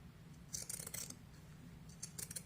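Pinking shears cutting through a fabric seam on a small doll dress, two quiet clusters of crisp snipping close by against a low background hum.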